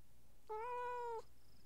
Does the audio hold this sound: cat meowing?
yes